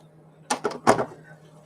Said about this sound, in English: they're back at the door beating on it.